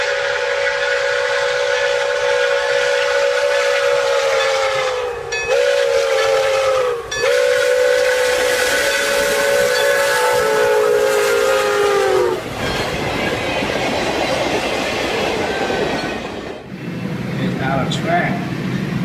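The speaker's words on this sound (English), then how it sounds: "Smoke pours heavily from the front of a moving train" A moving train rumbles steadily with a loud, sustained steam whistle blowing in long tones, then fading into continued rolling noise.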